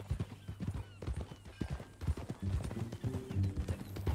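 Horse hooves clip-clop at a steady walking rhythm in Red Dead Redemption 2, a ranch-bought horse ridden at close range, with a snort or whinny-like sound partway through and a faint low musical bed underneath.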